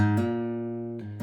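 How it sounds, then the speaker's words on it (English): An acoustic guitar note rings out, then a second note sounds as a finger hammers onto the string, sustained and clear with no talking, from the song "You Made A Way." "you add in a little hammer on."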